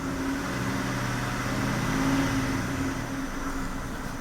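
A 2005 Kia Sorento with a lit check-engine light and an ignition misfire runs at steady revs, its engine droning with a constant low hum that swells slightly midway, continuous and close.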